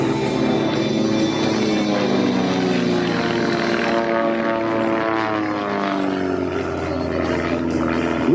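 Two RV-8 aircraft at an air show drone overhead with loud, sustained propeller engine noise whose pitch rises and falls as they roll through a triple roll in aerobatics.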